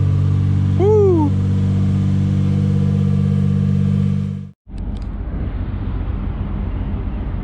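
Toyota Supra MKIV imported from Australia idles loudly with a steady low rumble, a voice briefly audible over it, before the sound cuts out and the engine returns with a rougher, broadband roar.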